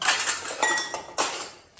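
Washed household utensils clink and clatter against each other as they are packed into a sack, giving a few quick metallic rattles close by with no talking.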